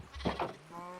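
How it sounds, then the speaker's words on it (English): A Minecraft sheep on a hardcore survival farm gives one short, close bleat in a couple of quick pulses, heard alone without talk. "so I just fed my sheep and my cows."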